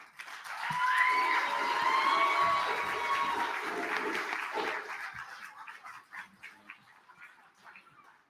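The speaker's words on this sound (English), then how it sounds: "Please give a round of applause to our dear brother, our speaker, Imam Omar Suleiman." An audience at an event honoring Malcolm X greets a speaker with sustained applause and cheering, punctuated by high whoops and shouts, filling several seconds before fading out.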